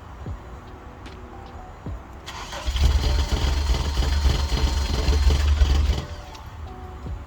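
An old car named Bunny, still on her original engine and exhaust, cranks and fires up, then runs with a loud rough rumble for a few seconds before shutting off, with faint background noise on either side.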